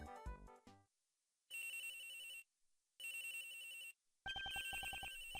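A telephone rings in the Ace Attorney Investigations video game, with three loud electronic ring bursts separated by short pauses after a brief musical sting.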